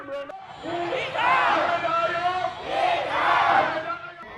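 A crowd at a Thai post-election rally cheers and chants for the winning party leader in two loud rising waves of massed voices, close and sustained.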